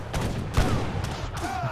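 Massed army gunfire in Age of Empires III, many units focusing fire on a single cannon: a dense, continuous crackle of overlapping shots with heavier booming thumps, loud throughout the short burst.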